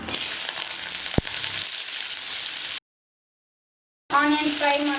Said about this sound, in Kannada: ಆನಿಯನ್ ಫ್ರೈ ಮಾಡ್ಕೊಳ್ಳಿ